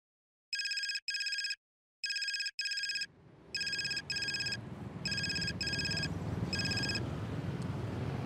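A telephone rings with repeated electronic double-pulse tones in a steady rhythm, clear and fairly close, while a broad hiss of background noise rises and continues under the later rings.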